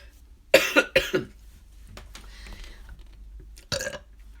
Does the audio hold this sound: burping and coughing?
yes